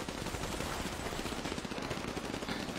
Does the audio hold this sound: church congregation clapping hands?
no